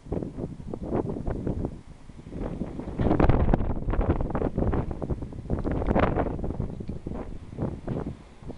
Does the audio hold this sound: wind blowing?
yes